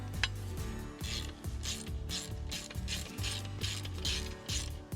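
Ratcheting socket wrench clicking on well drop tube fittings, a steady run of close mechanical ratchet strokes in repeated bursts with no talking.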